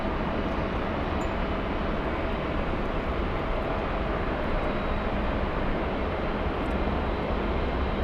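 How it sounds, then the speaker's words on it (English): An Embraer Praetor 500 business jet roars past at an airport, a broad continuous engine rush holding steady and loud throughout, with no voices. "we have another exec jet, a Praetor 500"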